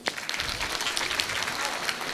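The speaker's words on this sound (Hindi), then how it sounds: "सुंदर, तालियां" An audience claps at a live Bhagavat Katha religious discourse, with a dense burst of applause that fills the short moment at moderate distance, with a voice faintly mixed in.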